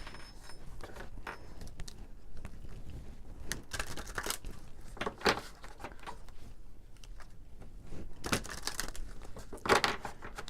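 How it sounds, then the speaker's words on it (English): Quick papery riffling and soft slaps repeat in short bursts, a close, crisp rustle of cards being shuffled with no talking. "These cards are already pre-shuffled, but just shuffling it."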